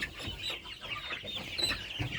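Chickens, including young Faverolles and a rooster, cluck and murmur close by in a yard, a busy overlapping chatter of short calls with no talk.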